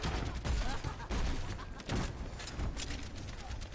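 Overwatch gameplay gunfire, rapid continuous bursts of shots and impacts mixed with game effects, dense and fairly loud with talking over it.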